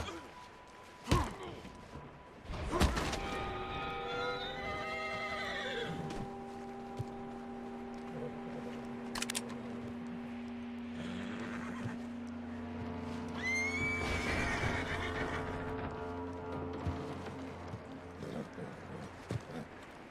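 A horse whinnies loudly with a long, wavering cry in Red Dead Redemption 2, followed by a second neigh, over a steady low hum and a few thuds.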